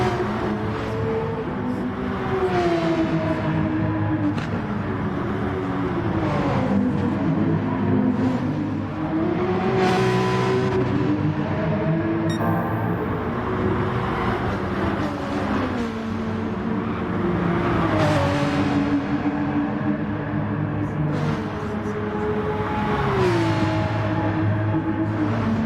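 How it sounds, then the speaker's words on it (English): A race car peels out and accelerates at a live sporting event, its engine rising in repeated revving sweeps as it pulls through gears, loud and sustained for the whole stretch. "We have a peel out."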